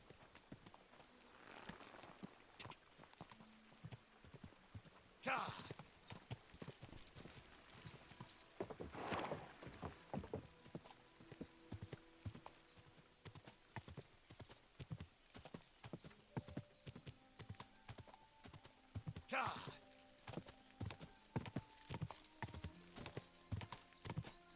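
Steady clip-clop of horse hooves throughout, with occasional snorts or whinnies and scattered game sound effects over a faint background, from the video game Kingdom Come: Deliverance II.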